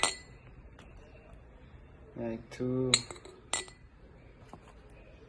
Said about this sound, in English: first I'm gonna add some yeast to this glass